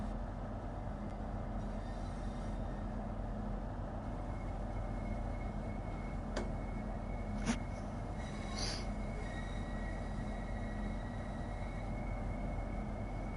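A Pendolino train running in Train Sim World 5, a steady low rumble of wheels and motors with faint tonal whines and a couple of brief clicks from the track.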